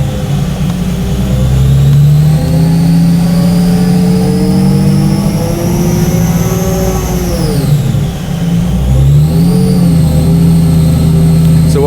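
A car engine revs on a dyno during a knock control test run, a loud, sustained mechanical drone that climbs steadily in pitch. It dips briefly near the end and then rises again, with no talking.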